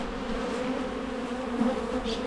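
Agitated honeybees from a strong hive under inspection on a mild day, a dense, steady, close buzzing drone that stays loud throughout, with no talking.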